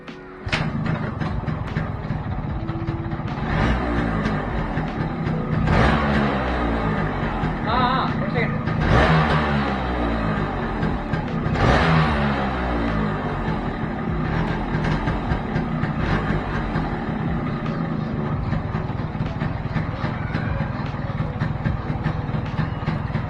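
A Yamaha RX motorcycle engine, just repaired after a vacuum leak, revs repeatedly in loud rising and falling bursts close by, with a voice talking over parts of it.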